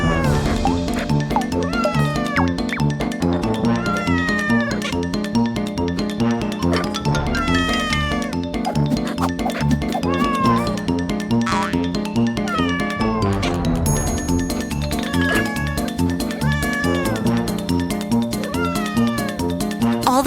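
Kittens meow over and over, with high cat cries and drawn-out caterwauls layered over steady music for the whole stretch, loud and close.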